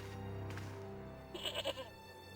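A goat bleats in the Broken Sword point-and-click adventure game, a short wavering cry of a few pulses rising over quiet background game music.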